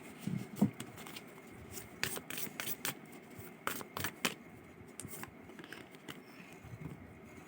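Tarot cards shuffled and handled close by, with a series of soft crisp riffles, slaps and scrapes at an irregular pace during a monthly love reading.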